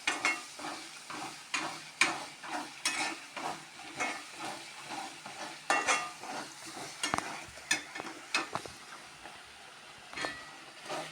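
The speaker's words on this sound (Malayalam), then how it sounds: "എനിക്ക് ഇങ്ങനെ ഇളക്കാൻ ഇഷ്ടം." Food frying in a pan and stirred by hand, with repeated scraping strokes in a steady rhythm over a soft sizzle, heard close and fairly quiet with no talk.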